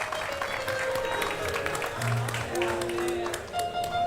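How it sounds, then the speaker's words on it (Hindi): Studio audience on a comedy talk show breaks into sustained applause, a dense wash of clapping with a few higher musical tones sounding through it near the end. "जोरदार तालियां फॉर द एंटायर परिवार of the great Indian couple show."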